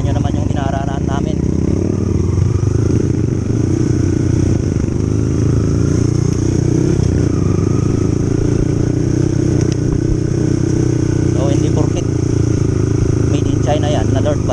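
A Microbike 150 XR dirt bike rides along a rough trail, its engine droning steadily and loudly throughout with faint clatter, while a rider talks over the noise.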